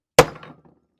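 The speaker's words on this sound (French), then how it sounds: "on prend un matoir, un marteau, bien au centre. Et là, on va venir marquer." One sharp metal hammer blow strikes a leather stamping tool (matoir) set on leather, a loud, close crack that decays quickly into a short ringing tail, then silence.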